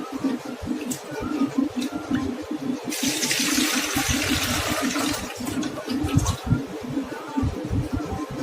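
Rice being washed in clean water alongside urad dal, water pouring and sloshing with a louder rushing burst midway, near and continuous, with brief handling sounds.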